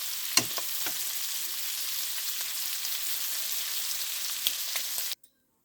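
Shrimp sizzle in hot oil in a pan over high heat, a steady crackling hiss with a few sharp pops, holding evenly before cutting off abruptly near the end.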